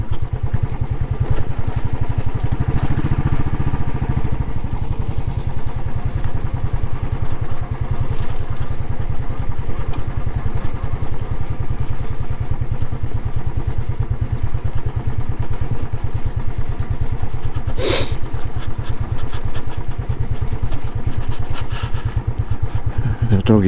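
A Royal Enfield Classic 500 single-cylinder motorcycle on a winter ride, its engine thumping steadily and continuously up close with a brief mechanical clatter partway through, no speech over it.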